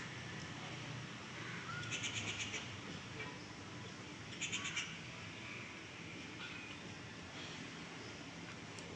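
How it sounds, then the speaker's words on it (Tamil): Small birds calling near a house, two brief bursts of high chirping over a steady outdoor background hiss, faint and a little distant. "பறவைகள் சத்தம் நம்ம வந்து வீட்டு பக்கத்தில் இருக்குது"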